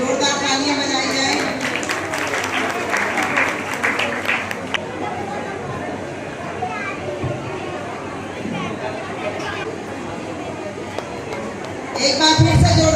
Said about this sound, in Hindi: जोरदार तालियां बजाई जाए।